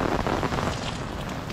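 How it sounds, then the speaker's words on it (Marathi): Heavy rain driven by stormy wind in Mawlynnong village, Meghalaya, forms a steady, dense broadband roar that stays close and loud throughout, with no voices. "खूप प्रचंड जोरात वादळी वाऱ्यासकट आता जस्ट पाऊस पडलेला"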